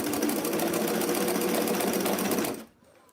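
A sewing machine runs at a steady, rapid stitching hum along a T-shirt sleeve for about two and a half seconds, then stops abruptly, leaving near silence.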